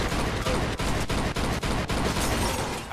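Sustained rapid gunfire in the Mafia 2 video game, a dense, loud fusillade of shots with brief gaps between bursts, close and unbroken over three seconds.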